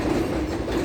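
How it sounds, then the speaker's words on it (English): An M line subway train rolls past in Ridgewood, Queens, giving a loud, steady rumble with wheel noise that fills the whole short moment. "Hey, a train!"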